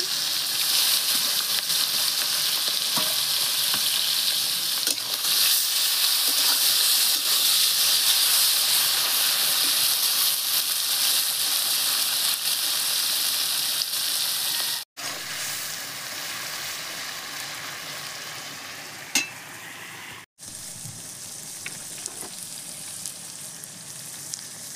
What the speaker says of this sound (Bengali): তেল গরম হয়ে গেছে, মাছ একই সাথে আমি সব দিচ্ছি।